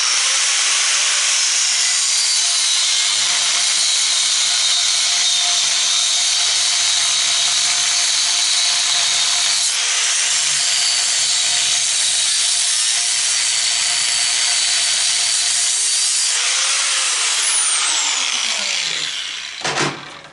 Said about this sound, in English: I'll have to put another disc on that grinder, cut-off wheel. I'm going to cut in there anyway,